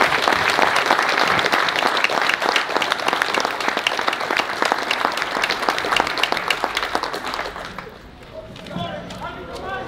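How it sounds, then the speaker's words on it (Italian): Sustained audience applause at a volunteer fire brigade ceremony in Rivarolo Canavese, a dense steady clatter of many hands that thins toward the end as a voice begins speaking. "a questo io vorrei dedicare un applauso commosso"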